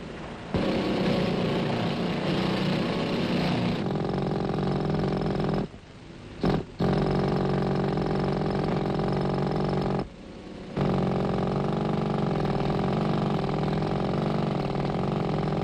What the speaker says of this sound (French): le reste du massif que l'explosion a ébranlé, craquelé, est livré à la rage des marteaux-piqueurs.